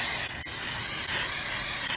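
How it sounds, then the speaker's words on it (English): Non-stick cooking spray hisses from a can onto a heating grill in a kitchen, a loud steady spray lasting about two seconds with a brief break near the start. "Now you can see our grill, and we're heating it. We're going to spray with a little non-stick"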